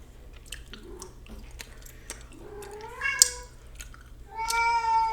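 A cat meows indoors, close and clear: a few short, rising meows, then one longer, drawn-out meow at the end, over quiet room noise.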